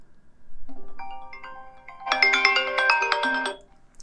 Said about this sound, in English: if you want to increase volume for ringtones and alerts, then you need to drag the slider to the right side.